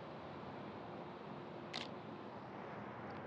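A single quick camera shutter click is taken at a fast 1/4000 shutter speed and f4 during manual exposure shooting outdoors. It is brief and faint against a steady hiss of background noise.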